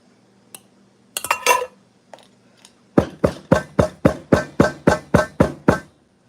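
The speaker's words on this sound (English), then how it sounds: "I use a little spoon to scrape down the corn that's stuck to the sides of my funnel" A little spoon scrapes corn stuck to the sides of a funnel, a run of about ten sharp, evenly spaced metallic clinks and scrapes close by after a few scattered softer taps.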